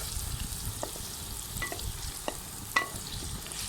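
Garlic, cumin and garam masala sizzle steadily in hot oil in a pan for a sago dish, broken by a few sharp scrapes and clinks of a stirring spoon, close and moderately loud.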